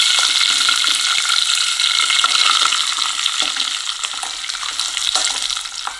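Curry leaves and dates for a lemon-date pickle fry in hot oil, giving a loud, dense, unbroken sizzle with faint scraping of a spoon through the pan.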